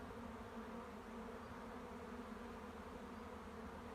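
Honeybees crowd the front landing board of a hive, their buzzing a steady, dense hum that holds at an even level throughout with no voices.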